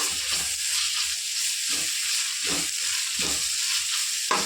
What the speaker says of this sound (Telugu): నేను అల్లం పేస్ట్ పడేసి ఫ్రై చేసుకున్నాము